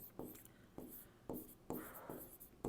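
Chalk or marker strokes on a classroom board during a Class 10 maths lesson on polynomials, several short distinct scrapes in an uneven rhythm, close and fairly clear with no speech.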